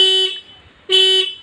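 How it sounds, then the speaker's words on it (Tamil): Motorcycle horn on a bike being rewired, two loud close beeps, a long blast and a shorter one after a brief gap. "ஹார்ன் பாருங்கள்."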